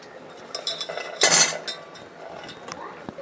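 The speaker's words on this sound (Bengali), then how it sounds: "এবার ভেজে রাখা আনাজগুলো আমি এক এক করে দিয়ে দিচ্ছি" Fried vegetables dropped one by one into a pot of Bengali shukto, with clinks of a utensil against metal, a brief louder clatter in the middle, and scattered soft taps, close and fairly quiet.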